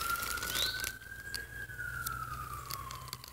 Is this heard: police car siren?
yes